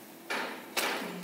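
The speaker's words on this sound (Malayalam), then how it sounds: "ഇനി നമ്മൾക്ക് ദോശ ഒന്നും കൂടെ മറിച്ചിട്ട് നോക്കാം." An egg dosa being flipped on a hot pan gives two soft, close thuds with a short sizzling hiss after each one.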